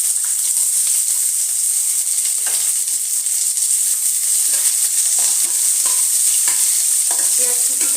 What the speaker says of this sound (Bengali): পেঁয়াজ কুচিটা একটু লাল লাল করে ভাজবো